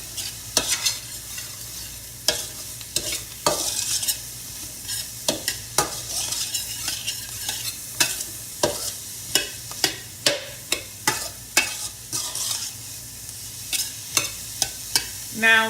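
Shrimp fried rice sizzles steadily in a hot pan while a utensil scrapes and stirs it in irregular, frequent strokes, close up and with no talk.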